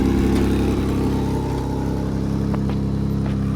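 A 1993 Honda Civic hatchback engine running at a steady idle, a close, loud, even mechanical drone with a faint tick, continuous throughout with no talk.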